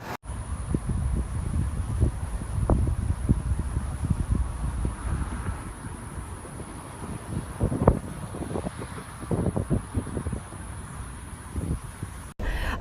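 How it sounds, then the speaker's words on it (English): Strong Hurricane Harvey wind buffets the microphone with continuous low roaring and irregular gusty thumps throughout. "right now it's still windy"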